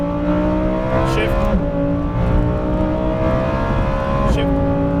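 A Lamborghini Huracán Performante at full throttle on the LVMS track, its engine note climbing hard and close, broken by two quick gear shifts before it pulls on again.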